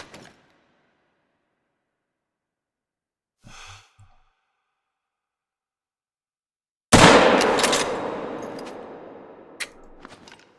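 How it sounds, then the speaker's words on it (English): A single rifle shot in the hunting game theHunter: Call of the Wild, set in Africa, cracks loudly after near silence and rolls off in a long fading echo, preceded by a few faint soft sounds. "Did I just shoot the rock?"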